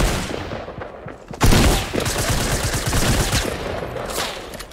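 Gunfire from a Fortnite match: sustained bursts of automatic fire, with a loud sharp shot near the middle standing out above the others.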